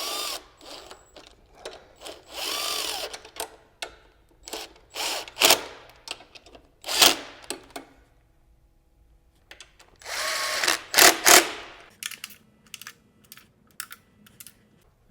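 Hand tools clicking and ratcheting as M8 bolts are snugged up on a T7 brake pedal assembly, in intermittent bursts of metallic clatter with pauses between, close and fairly loud.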